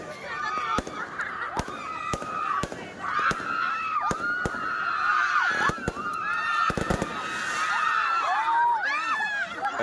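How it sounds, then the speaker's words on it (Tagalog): Fireworks burst repeatedly as sharp, loud cracks and pops over about ten seconds, with crowd voices and screams rising in the background. "It's just fireworks."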